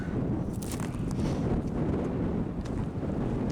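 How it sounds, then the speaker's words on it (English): Wind gusts sweep across an open rocky outcrop near the Boulder City Pluton, buffeting the microphone with a steady, close, low rumble that lasts the whole few seconds, with no voices. "There comes the wind."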